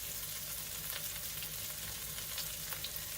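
A burst cherry tomato pasta sauce is stirred in a pan over heat, a steady soft sizzle and bubbling with faint scraping of the spoon, quiet and continuous with no one talking.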